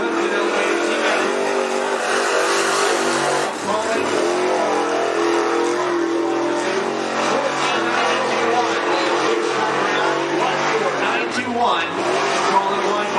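Late model crate race cars at Cottage Grove Speedway roar around the track, engines revving and droning continuously with passing pitch shifts, loud and sustained.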